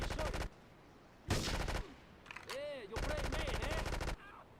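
Bursts of rapid automatic gunfire from the video game GTA III, several sharp volleys separated by short gaps, mixed with other game sound effects.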